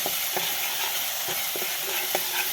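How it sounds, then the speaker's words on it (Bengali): A spatula scrapes and stirs cooked-down spice paste (masala) in a pan as the oil separates, for a fish curry with yogurt; soft sizzling runs throughout, broken by a few sharp scraping clicks, close and steady, with no talk. "মশলা কষানো হয়ে গেছে আমি ভালো করে একটু নাড়িয়ে নিলাম"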